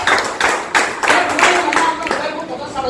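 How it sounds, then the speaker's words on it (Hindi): Loud clapping at a business-plan meeting, a few seconds of fairly close, uneven hand claps with distinct strong strikes, tapering slightly toward the end. "उत्तम सर के लिए जोरदार तालियां।"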